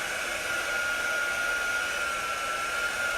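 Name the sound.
heat tool drying ink on a baby onesie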